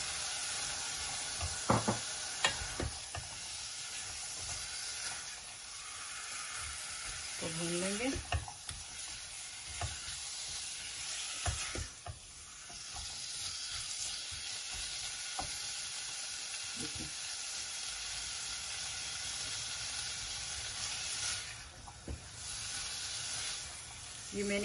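Boiled chickpeas frying in a cooked spice masala, a steady hissing sizzle with occasional stirring scrapes and clinks, fairly quiet and close.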